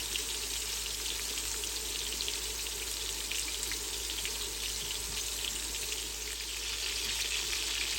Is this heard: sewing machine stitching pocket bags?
no